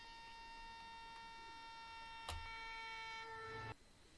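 In Train Simulator Classic, a train passes on a massive viaduct, with a steady chord-like tonal drone that carries for several seconds, a sharp clack partway through, then a sudden cutoff into quieter background.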